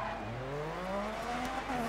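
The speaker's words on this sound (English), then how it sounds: "Tap of the handbrake." A rally car in the Dirt 3 video game slides through a handbrake turn, its engine droning with rising pitch as the tires scrub and skid across the surface, loud and close throughout.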